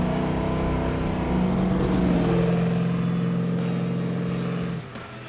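A 1970 Chevrolet Nova SS with a 468 big-block V8 drives hard, its loud, steady engine drone rising in pitch as it accelerates, then easing off near the end, with no talking.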